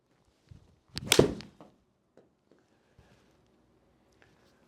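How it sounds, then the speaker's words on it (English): A single crisp strike of a Yonex golf iron hitting a cut shot outdoors: one sharp, solid impact followed by quiet, with a few faint small noises afterward. "Let's see if I can hit a little, cut shot with this and see what we get out of that."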